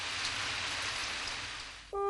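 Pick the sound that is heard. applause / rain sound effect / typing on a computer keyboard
rain sound effect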